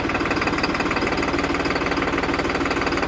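A New Holland 3630 turbocharged tractor engine runs steadily at idle while the steering is turned, giving a loud, close, even diesel knock with a fast regular rhythm and no talk over it.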